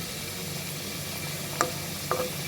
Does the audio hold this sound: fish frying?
yes